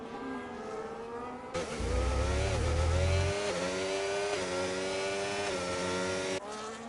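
A McLaren race car's engine at a CRL race in Texas roars close and loud, rising through revs with strong harmonic whine, shifting gears and holding a sustained high-pitched scream before cutting off near the end.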